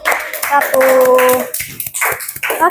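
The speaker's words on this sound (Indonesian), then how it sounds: "tepuk tangan buat kelompok" A classroom claps for a student group, with brief bursts of hand claps and taps mixed with children's voices and a teacher's speech.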